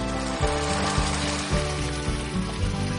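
Plum tomatoes hit hot oil and sautéed red onion in a 10-inch non-stick skillet, setting off a loud continuous sizzle with periodic soft thumps and stirring clatter.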